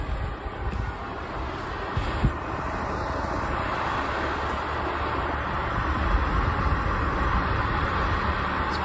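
Denbig portable air conditioner fan blowing on max, a steady broad whooshing rush with a low rumble close to the microphone, continuous throughout without voices.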